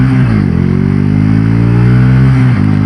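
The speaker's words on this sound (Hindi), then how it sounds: "तो अब हमने लगा लिया है रोड मोड, और रोड मोड में एक बार बाइक को राइड करके देखते हैं।" A Bajaj Pulsar N160 motorcycle engine runs in road mode while being ridden, a loud, steady mid-pitched drone that rises and falls gently with throttle, with a brief dip near the end.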